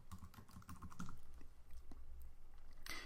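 Typing on a computer keyboard, a fast run of light key clicks close by, then a brief pause and a final burst of taps, with no voices.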